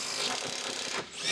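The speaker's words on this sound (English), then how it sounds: "impact wrench, remove the lower mounting bolt and nut on the rear shock absorber" Impact wrench loosening the lower mounting bolt of a rear shock absorber on a Ford F-series truck, a short continuous close-up buzzing whir with a brief dip near the end.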